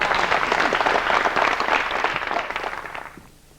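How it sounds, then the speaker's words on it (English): An audience at a talk show applauds, dense close clapping holding steady for a few seconds before thinning and fading out near the end. "That deserves an applause."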